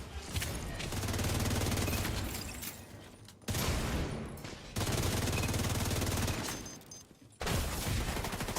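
Automated turret gunfire in the video game The Division 2, long dense bursts of rapid fire lasting a couple of seconds each, separated by brief pauses, loud and close.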